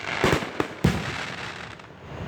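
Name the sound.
fireworks exploding at Fourth of July show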